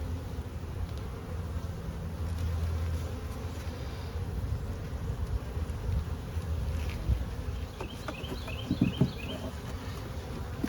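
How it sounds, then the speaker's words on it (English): Honey bees from a new package drone steadily around an open hive, a dense close buzz that continues throughout with a few individual bees passing nearer, and nobody speaking. "This was our other new package of bees."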